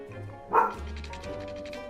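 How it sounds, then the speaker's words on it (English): A dog gives one short, moderately loud bark-yip partway through a background of music, with faint further yips trailing after it. "My apologies for the dogs."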